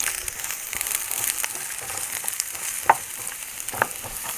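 Sliced onions sizzle in hot coconut oil while being stirred. A steady, crackling hiss carries through, with occasional sharper clicks and scrapes from the stirring, and no voices are heard.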